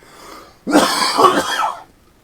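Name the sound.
cough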